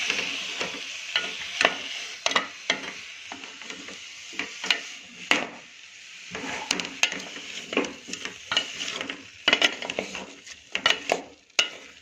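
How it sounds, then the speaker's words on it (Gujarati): Onions and tomatoes are stirred in a pan over a medium gas flame with very little oil or butter, giving repeated scraping and clinking strokes of a spoon against the pot over a soft sizzle. "હવે આને મીડિયમ ગેસ ઉપર આપણે આ રીતે હલાવી દઈશું"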